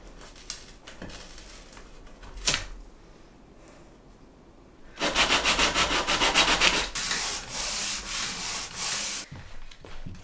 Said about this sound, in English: Sanding is one of my least favorite things to do